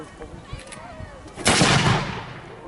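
A War of the Roses era cannon firing a load of musket balls, one sudden loud boom from close by that rolls into a rumbling roar and fades out, with a voice faintly present beforehand.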